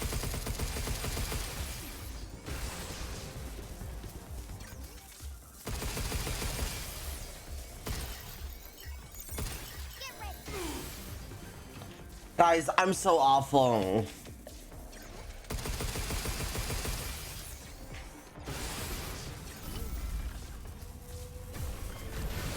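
Charge piercer weapon firing in Pragmata amid game noise and a talking player, with repeated shots and a loud, shattering impact burst near the middle.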